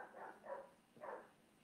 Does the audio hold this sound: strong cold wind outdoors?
no